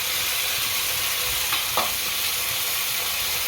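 Tomato gravy sizzles steadily in a hot pan while a spoon stirs it, with a couple of brief scraping strokes over the constant frying hiss.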